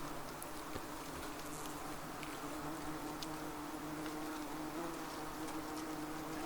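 Yellow jacket wasps buzz steadily at a nest inside a building, a low, constant drone with faint individual wingbeats flickering through, quiet and unbroken, with no voices.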